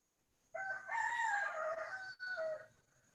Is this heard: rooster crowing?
yes